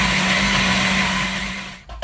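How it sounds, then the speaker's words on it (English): A kitchen blender runs at full speed crushing onions and peppers, a loud steady motor whir that cuts off abruptly near the end, leaving brief clatter. "start blending and crushing up my onions and my peppers and everything else"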